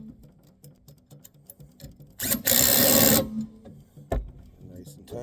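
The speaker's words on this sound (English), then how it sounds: "I have a 10mm ratchet wrench that I brought." Ratchet clicking from a 10mm ratchet wrench tightening bolts while a Yardbird chicken plucker is assembled. A loud, dense burst lasts about a second, and a single sharp click follows, over a quiet background.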